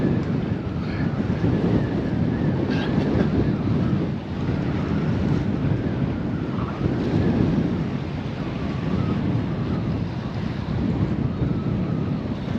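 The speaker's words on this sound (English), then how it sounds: "It's blowing a gale now" Gale-force wind roars steadily along the coast, close and loud, buffeting the microphone with broadband gusts while surf and waves churn beneath it throughout, with no voices.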